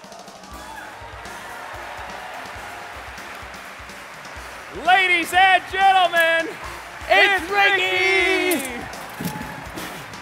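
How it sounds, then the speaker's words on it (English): A live crowd at a comedy juggling show bursts into clapping and cheers in several loud waves, following an announcer's excited introduction. "Keep that applause going"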